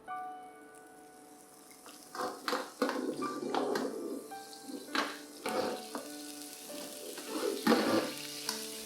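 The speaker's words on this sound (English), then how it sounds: "Then add in the aromatics, which are the garlic, ginger, and the white parts of the spring onions." Garlic, ginger and white spring onion parts hit hot oil in a stir-fry pan, giving a steady sizzle broken by irregular stirring scrapes and clinks that grow louder after the first couple of seconds.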